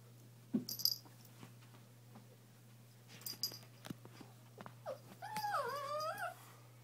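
A puppy gives a few soft whimpers and whines, brief high cries rising toward a longer wavering whine at the end, with quiet stretches between.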